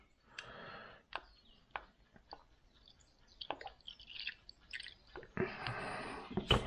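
Vinegar at 8% acidity poured into milk for homemade Boursin-style cheese, trickling and splashing in short close bursts with a longer pour at the end, no talking over it.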